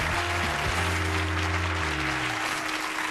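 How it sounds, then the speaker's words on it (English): Studio audience applauding on a game show, steady broadband clapping throughout with a low sustained musical tone underneath. "Can we have a big round of applause,"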